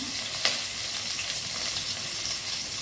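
Chopped green chillies and curry leaves hit a hot mustard seed and cumin tempering for lemon dhokla, giving a steady, close sizzle and crackle with a sharp pop near the start and no talking.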